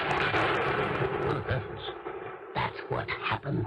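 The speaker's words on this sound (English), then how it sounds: "That was a gunshot" A gunshot effect in a 1977 radio drama set in an old house, a sharp loud crack amid dense noise, with people speaking around it.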